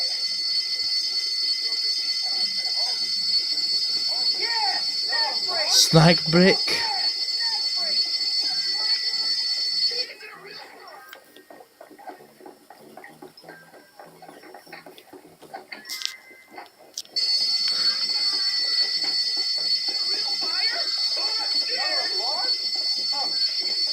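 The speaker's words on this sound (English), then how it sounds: "Ha! Fire alarm." School fire alarm in the video game Bully, a loud continuous ringing that drops out for several seconds midway and then resumes, with game characters talking and background chatter throughout.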